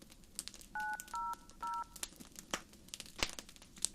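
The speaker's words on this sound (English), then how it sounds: "I grabbed my phone and looked down to dial 911" Three short beeping telephone keypad tones, like a phone dialing 911, sound in quick succession over a faint crackling background, close and clear.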